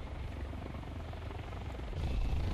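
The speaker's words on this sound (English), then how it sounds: "Oh, there's another chopper." Helicopter flying overhead, its rotor thrum a steady drone that swells louder toward the end as it passes nearer; no speech.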